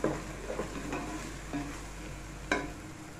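Biryani masala sautéing in a pan while being stirred, a soft steady sizzle punctuated by a few scraping strokes of a spoon against the pan, close but fairly quiet, with no one speaking.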